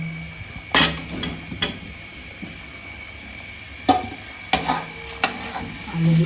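Potatoes going into a frying pan and being stirred, with several sharp scraping and clinking strikes of a spatula against the pan over a quiet sizzle, spaced irregularly.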